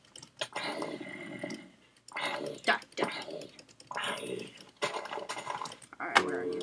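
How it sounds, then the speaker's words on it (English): Rapid bursts of mouse clicking during a PC video game session, clattery clicks coming in clusters while a player talks over them. "I'm just clicking like crazy."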